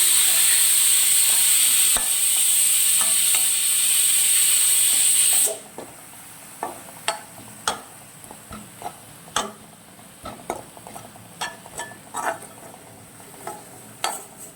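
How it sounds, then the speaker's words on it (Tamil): Goat liver pepper curry sizzles loudly in a pan for several seconds, then quiets as tomatoes are stirred in, leaving irregular spoon scrapes and clicks against the pan. "கட் பண்ண தக்காளி சேர்த்துக்கோங்க அதையும் இது கூட சேர்த்து நல்லா மிக்ஸ் பண்ணுங்க"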